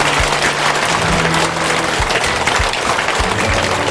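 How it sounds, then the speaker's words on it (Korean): Steady applause from a crowd at a Buddhist temple ceremony fills the space, a dense continuous clapping that stays even throughout, with low thuds underneath. "외국 스님께 큰 박수로 감사해 주시기 바랍니다"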